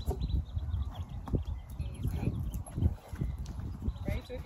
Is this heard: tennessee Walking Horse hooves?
yes